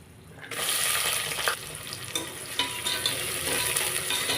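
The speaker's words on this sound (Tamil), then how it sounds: "வெங்காயம் நல்லா வதங்கி வரட்டுங்க" Long-sliced large onions sautéing in a pan for a yam biryani, with a steady close sizzle and occasional stirring scrapes, alone without talk.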